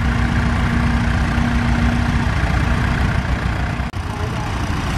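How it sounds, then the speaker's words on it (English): A six-cylinder diesel tractor engine idles loudly and steadily close by at a ploughing event, a deep, even rumble with a faint tonal hum that fades partway through. "This is a six-cylinder diesel engine and a standard four-cylinder."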